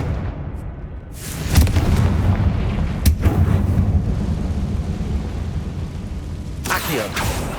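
Booming fire spell blast from the Hogwarts Legacy video game, a loud sustained roaring burst with a sharp crack partway through and another whooshing hit near the end, over steady game ambience.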